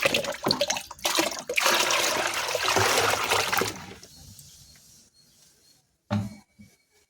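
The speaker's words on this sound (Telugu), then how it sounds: "ఇంకా మనము ఎక్కువ వాటర్ అయితే ఇచ్చుకుందాము." Water poured from a container onto the base of a hibiscus plant, a loud splashing gush for several seconds that tapers to a faint trickle, followed by a brief final splash.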